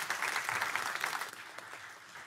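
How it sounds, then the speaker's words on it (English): Applause from the audience at a city council meeting, a brief, moderately loud burst of clapping that thins slightly toward the end. "Give him a big round of applause, everyone."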